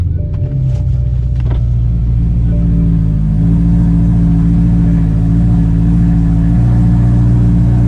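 A BMW E92 M3 V8 fitted with a new exhaust sits close by with a deep, rumbling idle, a short blip of revs early on, then a low, steady drone.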